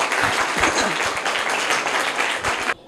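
Loud, dense applause from a crowd at a school quiz competition rewarding a correct answer, steady clapping throughout that cuts off abruptly just before the end.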